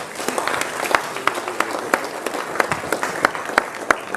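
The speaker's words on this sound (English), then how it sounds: "A round of applause for the Governor." Scattered applause from a modest crowd at a formal launch event, with individual sharp claps standing out irregularly against a softer background of clapping and murmur.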